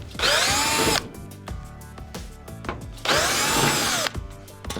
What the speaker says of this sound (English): to remove the valve, you'll have to take these 2 T15 screws out